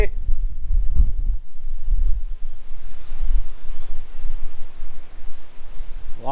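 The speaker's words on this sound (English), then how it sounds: "Woo, it's windy today." Strong wind roaring and buffeting the microphone at Lake Ahquabi State Park, Iowa, a loud rumbling gusty noise that rises and falls without pause.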